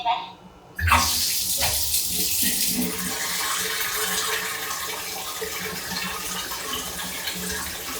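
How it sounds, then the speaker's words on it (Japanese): Hot water pours from a tap into a bathtub after a short click, a steady close rushing stream that continues evenly without talk. "お湯張りをします。"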